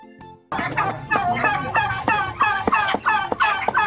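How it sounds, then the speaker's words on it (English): A turkey gobbles in a rapid, rattling burst of repeated warbling calls, loud and close, after a short faint lead-in. "Turkey."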